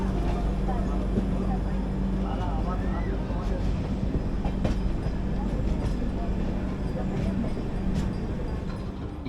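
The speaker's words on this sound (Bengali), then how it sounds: "বাট আবার কিছুক্ষণের মধ্যে ট্রেনটা আবার চলতে শুরু করল" Howrah-Bangalore Duronto Express running on rails after a signal stop, heard from inside a 3rd AC coach as a steady loud rumble with faint rhythmic clatter throughout.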